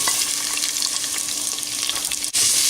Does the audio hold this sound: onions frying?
yes